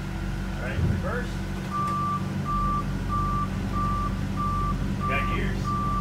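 A truck backs up with its reversing alarm beeping steadily at an even rhythm over a loud continuous engine rumble, heard close, with people talking briefly.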